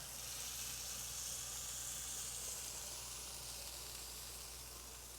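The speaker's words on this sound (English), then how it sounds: "We're going to put them on the grill. Sizzle, sizzle, and sizzle." A steady, faint sizzling hiss of smashed burger patties frying on a hot grill runs without a break, with a low hum underneath.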